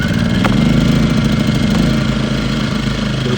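Two portable generators run together in a steady, loud, close engine drone with an even low throb and no pauses.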